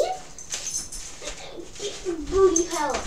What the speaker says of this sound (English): Oh, my dog's in my room again.